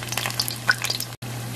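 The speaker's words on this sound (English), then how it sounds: "and then let it fry." Cod fish fritters frying in hot oil, a steady close crackle and hiss with scattered pops, running alone until a brief cut near the end.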